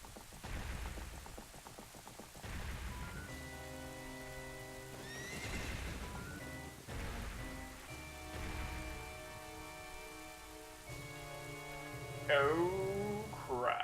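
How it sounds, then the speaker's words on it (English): A horse in the Zelda: Ocarina of Time video game gallops past, with repeated rhythmic hoof clatter and loud whinnies layered over a sustained musical background, ending with a brighter neigh burst. "Get out of the road, Link. There's a horse coming."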